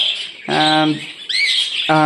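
A sky-blue budgerigar and other caged budgies give loud, close squawks and harsh chirping calls in short bursts, with a few brief pauses between them.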